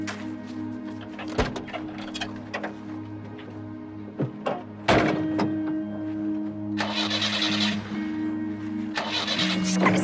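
A car engine with an empty fuel tank cranks repeatedly without catching, in several whirring bursts broken by clicks and clunks, heard up close inside the vehicle.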